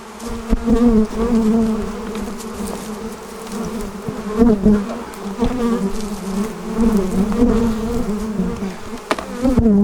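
Honeybees from an agitated hive swarm during fall syrup feeding, a dense, loud buzzing that swells and dips as insects zip close past, continuous for the whole stretch with no voices.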